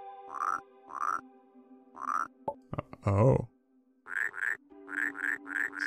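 A frog in the Rusty Lake Paradise video game croaks repeatedly in steady short bursts. A brief clattering sound breaks the pattern, then the croaks resume in a quick series, and a voice briefly exclaims.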